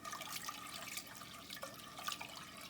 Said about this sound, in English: And then finally, our vinegar is going into the pot.